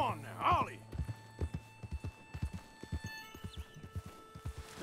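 Horses in Red Dead Redemption 2 clip-clop at a steady trot with close hoof thuds, and one whinnies sharply near the start over a faint background hum.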